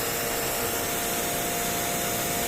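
A blower drying a freshly cleaned air conditioner unit gives a constant loud, broadband whoosh of rushing air, close and steady with no talk.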